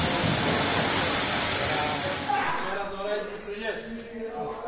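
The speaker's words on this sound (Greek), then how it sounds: "Μα τώρα νερό σκέτο ρίχνουμε στην αρχή." A pressure washer blasts plain water onto a Mazda RX-7 FD, a loud steady hiss that cuts off partway through, leaving quieter talk and background noise.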